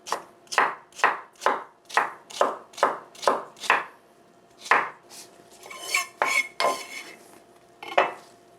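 A knife chopping a carrot into julienne strips on a cutting board, about a dozen evenly spaced crisp thuds in a steady rhythm, close up, followed by a few clattering handling sounds and one last knock.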